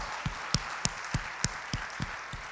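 A congregation at a church evening service claps in a steady, even rhythm of roughly three to four beats per second, with sharp close claps over a dense bed of crowd applause.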